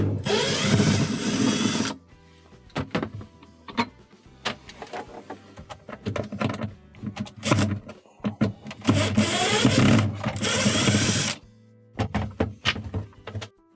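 Power screwdriver whirring in short bursts as screws are backed out of a refrigerator's bar and lower panel during a defrost repair, with clunks and handling noises between the runs.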